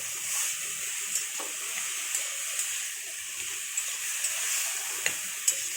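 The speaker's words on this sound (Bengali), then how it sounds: "এটা ভাজা ভাজা হবে, তারপর ডালটা দিয়ে আমরা নামাবো।" Banana stem (thor) sizzles gently while frying in a pan for a lentil dish, a steady soft crackle with occasional light clicks of stirring, close and moderately quiet.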